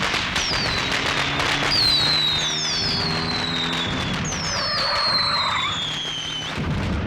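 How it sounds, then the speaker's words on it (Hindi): Firecrackers going off in the middle of a street, a dense run of crackling bursts with whistling rising streaks, fairly loud and continuous, with background noise throughout. "आज न दिवाली है न दशहरा, फिर भी पटाखे चला रहे हैं, वो भी बीच सड़क पर।"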